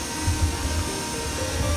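A steady mechanical whir of MJX Mew 4 quadcopter drone motors during auto take-off, droning continuously at close range, with a low rumble underneath and no pauses.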